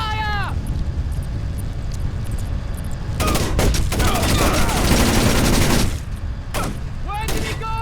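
Bursts of gunfire and incoming fire in the stealth video game Splinter Cell: Chaos Theory, a dense volley through the middle with sharper isolated shots near the end, over a steady game background with some voice-like tones.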